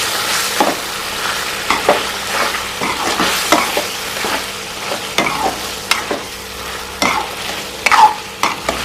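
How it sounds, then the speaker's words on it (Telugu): Ginger paste fries in a pan with a close, continuous sizzle. A spoon scrapes and stirs through it at irregular intervals. "బాగా పచ్చివాసన లేకుండా బాగా వేయించుకుంటా అల్లం పేస్ట్"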